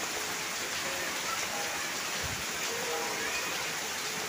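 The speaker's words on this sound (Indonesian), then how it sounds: "hujan deras sekali." Heavy rain pours steadily as a dense, even hiss that lasts throughout, heard over a roof with gutters and without any talk.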